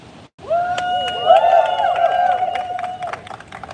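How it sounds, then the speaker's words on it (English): A crowd at a trans remembrance rally bursts into applause after a brief hush, sustained clapping layered with high whoops and cheers that swell and then gradually thin out. "Clap it up one more time for Councilmember Rogers."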